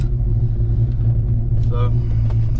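A Fox body car's engine and exhaust rumble through new tailpipes, heard from inside the cabin as a steady deep low drone, with a short voice sound briefly over it.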